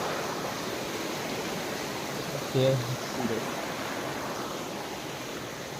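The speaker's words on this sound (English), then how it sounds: "In order to reach our my uncle Jum, we need to cross this river." A river on a farm, about to be crossed, flows as a steady broad rush of water throughout, with a person briefly speaking a single word over it near the middle.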